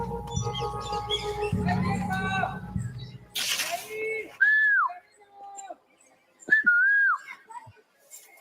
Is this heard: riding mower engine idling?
no